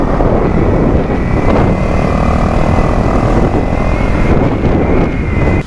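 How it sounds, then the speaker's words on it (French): A BMW S1000XR motorcycle engine drones steadily while riding, with a loud, continuous roar mixed with rushing wind and no break for the whole stretch. "Ah j'aime bien cette moto, c'est un S1000XR je crois. Ça marche bien ça."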